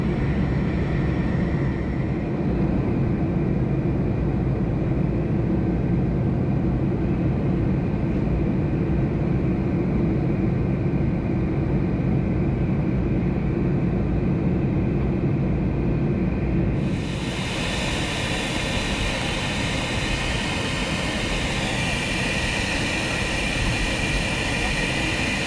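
Steady, loud cabin roar of an Air Inuit Boeing 737-200 in flight, a broad continuous rush that shifts abruptly in tone partway through, with no pauses.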